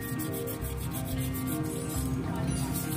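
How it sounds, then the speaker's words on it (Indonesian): Continuous rhythmic rubbing of coarse sandpaper against a metal Yamaha NMAX CVT pulley bowl, close up, with quick repeated back-and-forth strokes. "Gunanya kalian amplas itu supaya debu-debu atau kotoran yang menempel di bagian mangkok polinya ini itu menghilang"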